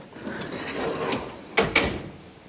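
A drawer on a US General Series 3 56-inch tool chest slides and shuts, ending in two quick, sharp metallic clacks close by against faint room noise.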